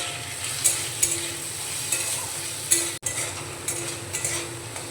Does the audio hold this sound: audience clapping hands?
no